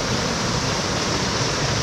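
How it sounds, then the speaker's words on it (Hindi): Water pours steadily from a spring source at a drinking-water collection point, a continuous close rushing hiss with no pauses and no speech. "यसरी पानी आइरहेछ"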